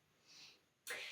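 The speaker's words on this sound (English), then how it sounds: "I think I need to sneeze." A person sneezes once during a podcast conversation, a soft inhale followed by a short, sharp burst, close and fairly quiet.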